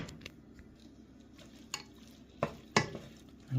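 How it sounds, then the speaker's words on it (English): Meat being stirred in a pot with cumin, turmeric, coriander, paprika and a cinnamon stick for Algerian chorba frik: quiet, soft stirring and squishing with a few sharper scrapes and clinks of a utensil. "We're going to go ahead and mix this all together"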